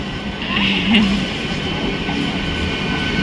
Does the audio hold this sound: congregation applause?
no